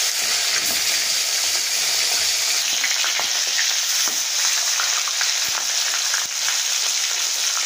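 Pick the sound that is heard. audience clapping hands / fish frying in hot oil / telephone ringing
fish frying in hot oil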